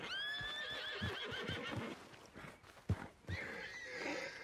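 A horse whinnies loudly at the start in Red Dead Redemption 2, a long wavering neigh, followed by snorts and hoof-like thuds against a steady background.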